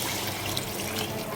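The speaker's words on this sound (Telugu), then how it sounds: "ఇప్పుడు వాటర్ పోసుకుంటున్నానండి." Water pours steadily into a cooking pot while sambar is being made, a continuous, even, hissing splash heard close up with no voices.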